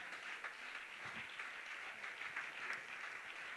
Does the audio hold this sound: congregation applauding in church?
yes